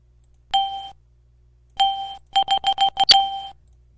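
A bright, clean electronic chime from an early Windows version running in VirtualBox rings out twice, then a quick run of rapid tones ends in a higher ding, clear and alone.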